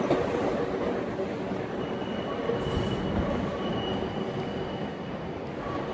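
A Class 458 electric train rolls past a London station platform in a steady, loud rumble of wheels on rails, with faint squeals and clatter running through it.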